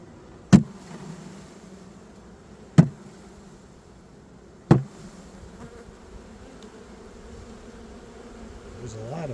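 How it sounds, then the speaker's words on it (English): A large honey bee swarm being shaken and banged into a new 10-frame hive: a steady low buzzing drone runs throughout, broken by three sharp knocks as the box is struck against the hive. "I just see a lot of bees, so I'm going to have to try and shake them in."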